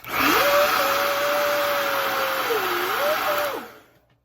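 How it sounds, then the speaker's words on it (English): Hair dryer blowing on hair, a loud steady whine that holds for about three and a half seconds with a brief dip in pitch near the end, then cuts off. "let's get to blow drying this bad"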